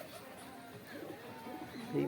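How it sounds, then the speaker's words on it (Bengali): Two pigeons cooing close by, soft low murmuring calls that repeat through the stretch, with a sharp knock at the very end. "দুটো কবুতর খুবই ডাকাডাকি করছে, দেখে নিন।"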